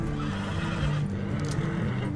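A horse in Red Dead Redemption 2 neighs amid a dense, loud wash of game sound with low rumble, the whinny blending into the steady background for about two seconds.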